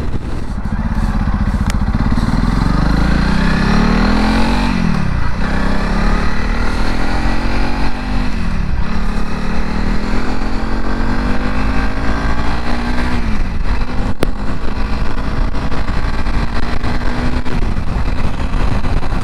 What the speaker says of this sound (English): at 70 miles an hour the bike is quite happy to sit there in sixth gear